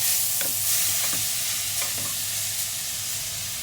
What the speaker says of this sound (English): we're going to add our carrot and courgette at the same time, and we're going to mix it.